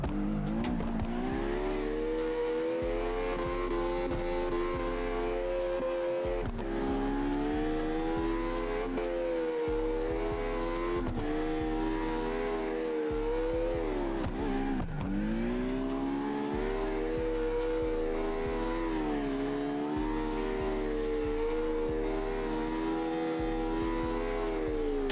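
Piranha X car drifting in CarX Drift Racing Online, with a steady high engine whine rising and falling through gear changes, under continuous tire squeal and a low rhythmic drone, loud and unbroken.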